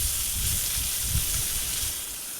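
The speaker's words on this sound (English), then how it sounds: "you still want to sear those ends" Steady loud sizzle of sesame-crusted tuna searing in a hot pan, a continuous hiss with low bumps as the fish is moved, no talking.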